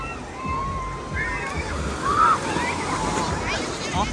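Water sloshes and splashes as people at a waterside outing throw it at each other, irregular wet bursts close by, with voices chattering and calling out over the splashing.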